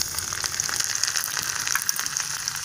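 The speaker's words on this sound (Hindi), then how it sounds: "तेल भी गर्म हो चुका है। अब इसमें लहसुन डाल देंगे।" Garlic dropped into hot oil with cumin seeds for a Shekhawati-style matira sabzi, giving a steady, close, crackling sizzle with fine popping throughout and no talk.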